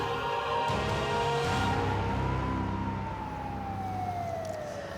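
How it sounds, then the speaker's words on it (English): A loud warning siren wails continuously, its pitch slowly rising and then falling in a long sweep, with no talking. "Now, this is a siren sound."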